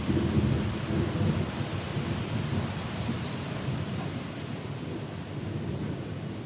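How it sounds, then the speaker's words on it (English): Thunder rolls in a long, low rumble through a dark summer thunderstorm, blended with steady rain noise, sustained and fairly distant with no talking. "Second thunderstorm of this summer."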